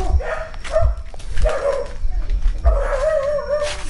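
Dogs bark and whine close by in a few uneven bursts, with drawn-out yelping tones between the barks.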